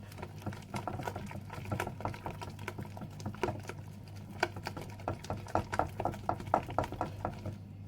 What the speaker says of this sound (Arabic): نقلب الخليط ده كويس اهو بايدينا او بالمضرب